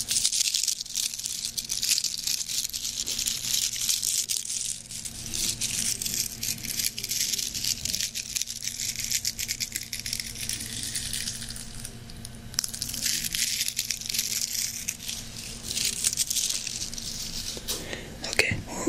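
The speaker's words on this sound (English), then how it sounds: "they also gave me a gift that I don't think they knew they were giving me, which is ASMR packaging material" Crinkly snack box packaging material is handled and squeezed close up, giving soft, continuous crackling and rustling with brief quieter gaps, heard without talk.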